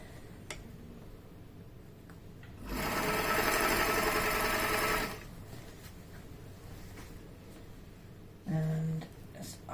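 HandiQuilter Moxie XL quilting machine stitching a fabric quilted box, with one loud burst of fast needle stitching lasting a few seconds, close up, surrounded by quieter handling noises and a short mechanical whir near the end.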